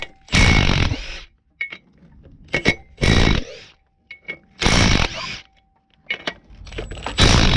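A VW Crafter 2.0 TDI's flywheel bolts are undone with a multi-spline socket, giving several loud ratcheting and grinding bursts of about a second each, separated by sharp metallic clicks and clinks.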